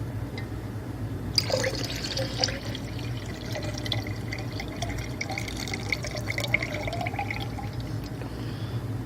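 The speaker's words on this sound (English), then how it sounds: "You dump your pH water into your salt water." Water with a pH additive pours steadily into a container of salt water with baking soda at the bottom, a splashing, bubbling stream that continues for several seconds before thinning out, with no talking.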